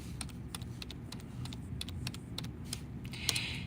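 Computer keyboard typing in a search bar, a quick run of separate light key clicks with short gaps, close up over a steady low background hum.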